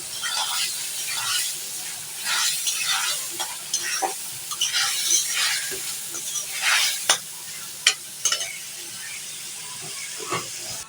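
Fish head frying in a pan and being turned with a spatula: a bright, hissing sizzle broken by frequent scraping clicks and knocks, loud and close throughout.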